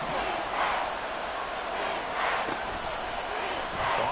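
A stadium crowd roars in the football video game Madden near the goal line, with the sustained broad cheering swelling in waves and a commentator's voice over the top.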